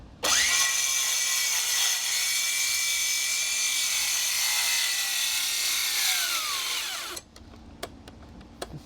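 A battery-powered saw cuts through a piece of free scrap wood in one continuous loud, close buzzing pass lasting about seven seconds, its pitch sagging slightly under load before stopping, followed by a few small knocks.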